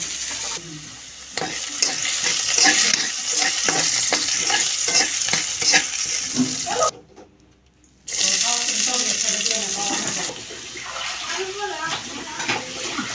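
Garlic and chili paste for bharta being stirred and fried in a pan, a steady sizzle with repeated scraping strokes, briefly cut out partway through, with speech faintly in the background.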